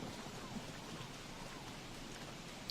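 Steady rain falling in the video game Don't Starve, a soft, even hiss held at a quiet level for the whole stretch, with no clear breaks or thunder claps.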